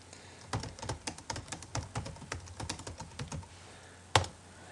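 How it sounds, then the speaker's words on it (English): Fingers type quickly on a computer keyboard with a rapid, uneven run of close, crisp key clicks, ending in one louder keystroke; no voices are present. "I'm going to type in a live timing message"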